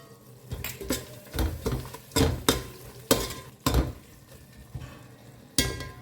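A spoon stirs biryani masala into prawn biryani in a pot, giving irregular scraping, clattering strokes against the metal with a soft sizzle between them, close and fairly loud, with no talking.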